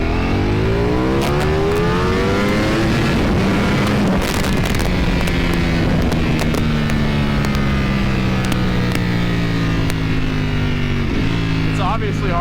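A Ducati Panigale motorcycle engine pulls hard through first gear, its loud rising whine climbing in pitch over about ten seconds amid heavy wind noise, with a brief drop and recovery near the end.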